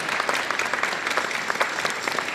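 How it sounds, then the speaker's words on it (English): An audience at a school fifth-grade band festival applauds the band teachers, a steady, moderately loud patter of many hands clapping in a hall with a faint crowd murmur. "Can we give them a round of applause as well for their hard work?"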